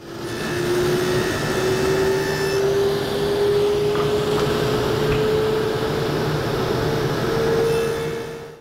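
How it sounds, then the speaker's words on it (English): A table saw makes test cuts in walnut, using a miter gauge alongside the fence, giving a loud, steady whining drone that holds for the full stretch at close range without speech. "I'm going to use my miter gauge in conjunction with my table saw fence to do this."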